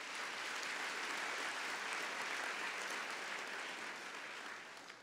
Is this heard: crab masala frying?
no